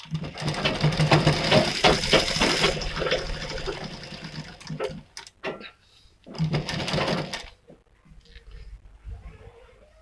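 A sewing machine stitches a Katori cut blouse in a steady, close, rattling run that stops partway through. A second short burst follows, then quiet.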